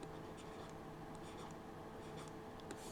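A pen scratches steadily across paper as numbers are written out during a math lesson on divisibility rules, a soft continuous writing sound close to the mic, with no talking.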